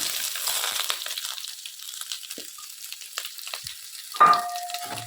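Onion, green chili and garlic frying with curry leaves in oil for a fish curry, a hissing sizzle that fades into scattered crackles and stirring scrapes, with a sharper clatter near the end.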